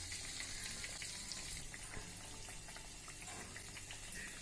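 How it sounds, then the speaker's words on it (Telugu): Batter-coated fish frying in hot oil and being turned over, a faint, steady sizzle heard close with no talking. "ఇలా రెండు వైపులా తిప్పుకుంటూ మంచిగా ఫ్రై చేసుకోవాలి."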